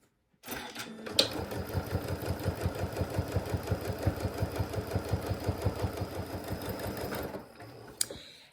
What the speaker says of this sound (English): We're going to put this in. We're going to sew across.